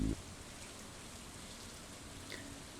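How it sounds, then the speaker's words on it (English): Soft, steady rainfall from the Stardew Valley video game patters evenly and quietly throughout, with no talking. "And then it's raining today."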